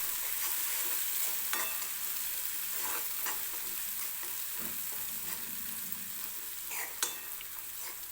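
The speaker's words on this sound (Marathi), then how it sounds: "मी मिरची टाकलेली आहे तेलामध्ये आणि ती व्यवस्थित भाजून घेते सुरुवातीला" Green chillies fry in hot oil with a continuous close sizzle, broken by occasional stirring scrapes and light clicks of a utensil against the pan.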